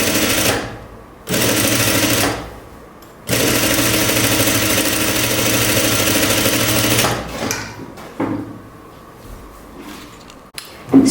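A sewing machine stitches a jumpsuit sleeve in long steady bursts of close, loud mechanical whirring, separated by short pauses, with a few shorter runs near the end.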